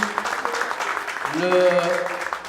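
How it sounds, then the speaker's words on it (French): An audience at an arts and culture gold medal award ceremony in Marrakech applauds steadily for a couple of seconds, the clapping blended with a sustained tonal voice or music that rises midway through. "On peut l'applaudir aussi."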